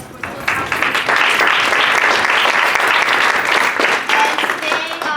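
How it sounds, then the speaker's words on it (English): Audience applause at a student leadership academy workshop swells after a brief quiet start into sustained, dense clapping from a crowd, then gradually thins, with a voice briefly heard in the clip. "let's give yourself a round of applause"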